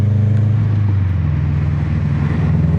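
Toyota FRS fitted with Tomei unequal length headers and an Invidia N1 exhaust, giving a deep continuous engine rumble, loud and close throughout with a steady burbling drone and no talking over it.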